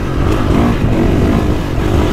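A 450 motocross dirt bike engine roars steadily at high throttle on a slick GP track, loud and continuous with a constant rumbling drone and no talking.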